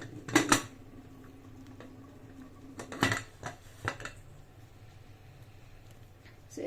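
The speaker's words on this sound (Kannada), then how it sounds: "ಈ ಹಂತಕ್ಕೆ ನಾವು ಕುಕ್ಕರ್ ಇಡ್ಡ ಮುಚ್ಚಿ ಎರಡು ಬಿಸಿಲಿಗೆ ಕೂಗಿಸ್ಕೊಳ್ಳೋಣ" A pressure cooker lid is closed over a boiling village-style vegetable pulav, with several metallic clanks and clicks in short bursts against a quiet kitchen hum.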